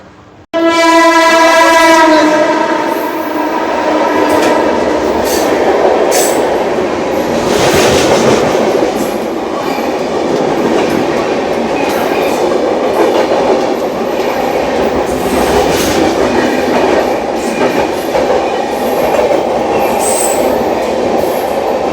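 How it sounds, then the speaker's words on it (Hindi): The Mahabodhi Express passes close by while overtaking the Sangam Express. It opens with a loud, sustained train horn, then a steady, heavy roar of wheels and carriages with some squealing that lasts about twenty seconds. "ये निकली अपनी महाबोधि एक्सप्रेस, उसमें ओवरटेक मारा संगम एक्सप्रेस को।"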